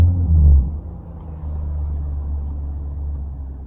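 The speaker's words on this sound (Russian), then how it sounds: "А, мотор заведен." A car engine idles steadily after starting, a low continuous rumble with a brief louder burst at the start, then an even hum close by with no talking.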